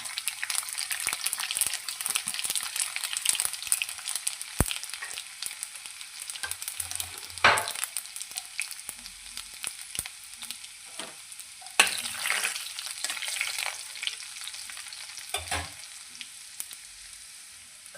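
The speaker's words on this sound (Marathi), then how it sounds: "तेल तापलेलं आहे. मोहरी, जिरं, परत आपण लसण पण टाकू." Mustard seeds, cumin and garlic sizzle and crackle in hot oil for a dhaba-style garlic methi masala, with a steady loud frying hiss, scattered sharp pops and occasional stirring clatter, and no talking.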